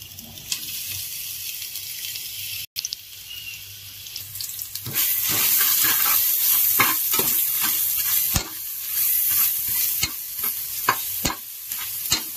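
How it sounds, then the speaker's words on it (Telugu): Ginger garlic paste fries in a pan for vegetable pulao, with a spoon stirring and scraping against the pan over a steady sizzle, with occasional sharp clinks. "అల్లం వెల్లుల్లి పేస్ట్ మనకి పచ్చివాసన పోయేంత వరకు మనం ఫ్రై చేసుకోవాలి లైట్గా"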